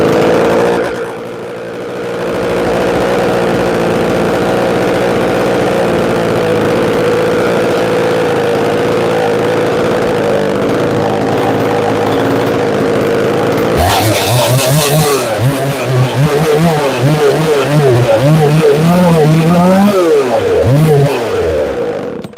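Chainsaw engine low on fuel, fitted with a muffler deflector mod, droning loudly at a steady pitch, then surging into ragged, wavering revs that fail to climb cleanly.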